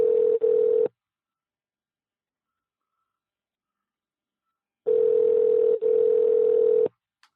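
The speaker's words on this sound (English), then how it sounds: "let's call Todd, see if we can get him on the phone." A steady telephone dial tone sounds loud and clear in two long stretches, about one second and then two seconds, each with a brief break, separated by several seconds of silence.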